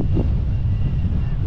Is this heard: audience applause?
no